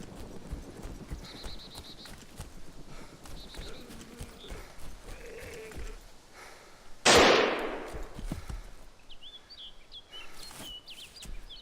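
A single loud gunshot from the player's firearm in the DayZ Breaking Point survival game cracks sharply mid-clip amid horse hooves, whinnies and birdsong, with no talk.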